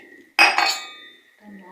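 Oiled drinking glasses are handled in a home kitchen, giving a single bright ringing clink that decays over about half a second, followed by a faint soft knock, close and otherwise quiet.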